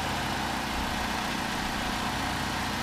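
A 2010 Chevy Cobalt with its four-cylinder Ecotec engine idles steadily nearby, a continuous even hum with no voices over it.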